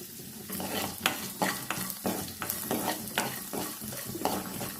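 Dried red chillies fry in hot oil for lemon rice, a steady close sizzle broken by repeated scraping stirs and knocks of a spoon against the pan.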